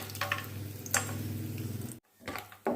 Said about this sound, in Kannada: ಬಾದಾಮಿಯನ್ನು ಒಂದು 2 ಮಿನಿಟ್ಸ್ ಫ್ರೈ ಮಾಡ್ಕೊಳ್ಬೇಕು ಈ ರೀತಿಯಾಗಿ.